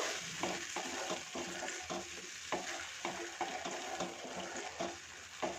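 Koi fish curry with spice paste and hot water is stirred in a pan, with regular spoon strokes scraping through a soft, continuous sizzle and bubble, moderately close.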